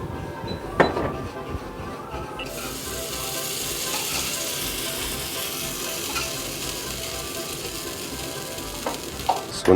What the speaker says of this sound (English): you really want to whisk it in there